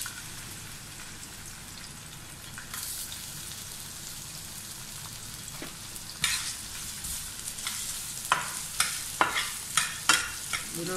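Chopped garlic and ginger sizzle steadily in hot coconut oil in a pan for beef fry, with a utensil scraping and stirring in a series of sharp, regular clicks toward the end; no voices.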